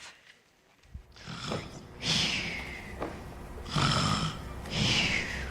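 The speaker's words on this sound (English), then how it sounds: "My, that grandmother has a mighty snore." A wolf character in a Little Red Riding Hood scene from Into the Woods snores loudly in bed, with four long, rasping snores in a slow, even rhythm.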